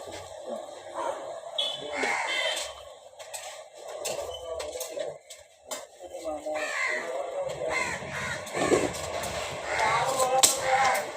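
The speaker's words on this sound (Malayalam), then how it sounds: "ഓ കാക്ക" Crows caw repeatedly against a busy background, with people talking intermittently throughout.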